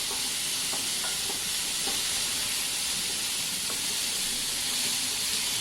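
Onion, tomato, ginger, garlic and bay leaf sautéing in a pan for paneer masala, a loud continuous close-up sizzle with faint scrapes of stirring and no talking.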